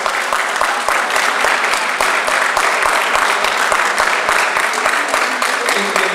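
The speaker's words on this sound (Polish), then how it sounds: "Brawa również dla Tomasza" Loud, steady applause from a boxing crowd after the judges' split decision in an amateur bout, dense clapping that fills the whole stretch with a faint voice underneath.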